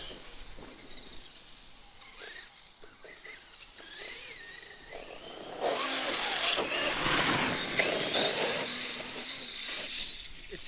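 A Traxxas X-Maxx RC truck with a belt drive system whirs and whines. Midway through, the sound jumps into a louder, harsher rushing grind, which fits a slipping belt, and it holds steady to the end.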